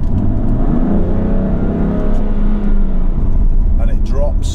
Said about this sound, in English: If you put your foot down in automatic mode, as we've got at the minute, what happens is it drops gears.